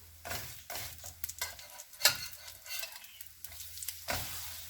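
Acacia flower fritter batter sizzles and crackles in hot oil, broken by bursts of scraping and turning in the pan, close by and fairly quiet.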